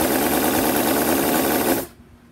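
A Cison V8 model engine runs with a dense, steady buzzing roar, close and loud, then abruptly cuts off and leaves near silence.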